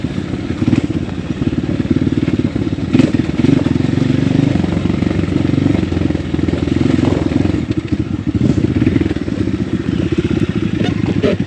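A motorcycle rides along a wet, rain-damaged road on the way to Laki Beach, its engine droning continuously up close with rattling clatter and tyre hiss from the wet surface.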